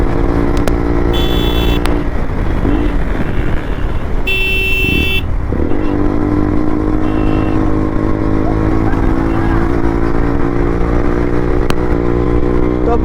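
Motorcycles on a group ride through city streets accelerate amid traffic, engines droning loudly and steadily with brief bursts of horn honking and surrounding road noise.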